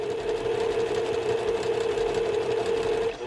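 A sewing machine runs steadily as it stitches a quarter-inch seam on a quilt block, giving a continuous close whirring drone for a few seconds with no talking.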